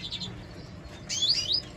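Redpoll birds in show cages chirp in quick, high tweets, a short burst at first and a louder, brighter trill a moment later, close by against quiet indoor background.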